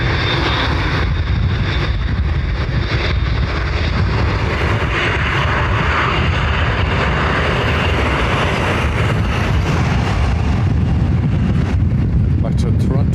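An airliner rolls down runway 10R at Dublin Airport on departure for Toronto, a loud steady jet roar filling the whole stretch.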